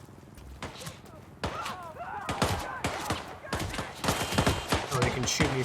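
Enemy guards in Hitman (2016) open fire in a rapid fusillade of gunshots, loud and close, with bursts continuing across the stretch amid other game noises and a voice talking over them.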